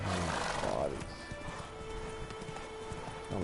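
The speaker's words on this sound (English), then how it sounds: "Oh, my horse is down or something." A horse whinnies loudly at the start in the Witcher 3 game, followed by softer scattered hoof clops and game ambience, with a player talking over it.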